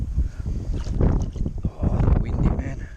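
Gusty wind buffets a microphone outdoors at a sluice site, rising and falling in loud rumbling bursts close to the mic, with a voice talking intermittently underneath.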